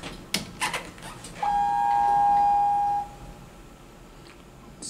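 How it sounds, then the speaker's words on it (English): Montgomery traction elevator, modernized by Cavinder, in an office building, with a single harsh electronic chime ringing steadily for about a second and a half, preceded by a few clunks and door or cab movement noises. "It's an ugly chime."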